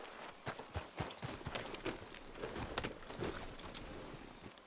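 Horse hooves clip-clop in Red Dead Redemption 2, a steady rhythmic trot of sharp close hoofbeats over a busy game background.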